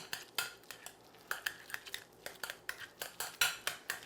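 Egg being stirred into boiled potatoes in a bowl, quick rhythmic scrapes and clinks of a utensil against the bowl, close and fairly quiet, repeating steadily.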